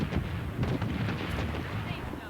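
Booming video game explosions rumble continuously amid dense battle noise, loud and close, with a few sharp bursts layered over the roar.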